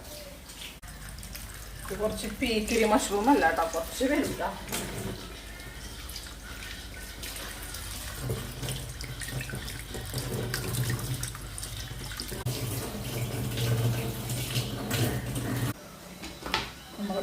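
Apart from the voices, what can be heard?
washing mushrooms under running tap water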